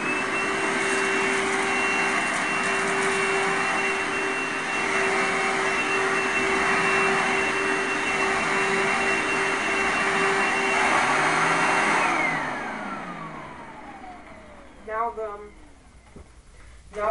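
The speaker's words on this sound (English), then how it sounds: "It's an older green vacuum because it doesn't have a headlight. Let's see what we can do. It's a suction test." An older green vacuum cleaner runs at a steady, loud whine during a suction test, then powers down and winds to a stop near the end, followed by a few faint clicks.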